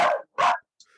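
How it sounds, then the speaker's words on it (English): A dog barks twice in quick succession, loud and close, followed by a brief faint yip as the sound trails off. "the dog is dogging."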